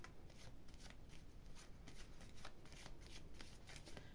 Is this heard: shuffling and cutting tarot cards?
yes